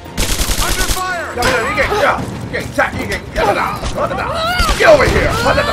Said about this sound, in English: You're getting shot in the face.